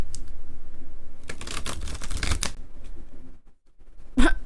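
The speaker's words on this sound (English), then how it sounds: "let's get these cards shuffled again." A deck of playing cards being shuffled during a game, with several rapid riffling bursts and crisp fluttering snaps, close and loud, followed by a brief pause and a final sharp riffle.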